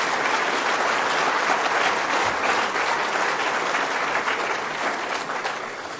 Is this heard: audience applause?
yes